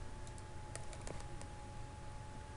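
Faint, scattered keystrokes tap on a computer keyboard while entering a command in 3D modeling software, sparse clicks sitting over a steady background hum.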